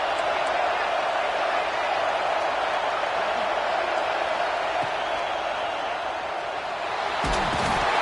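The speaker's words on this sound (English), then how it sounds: "This crowd is trying to inspire this defense to make a big red zone stop." Football stadium crowd roaring as the home fans push their defense for a red zone stop, a dense, steady wall of noise that stays loud for the whole stretch.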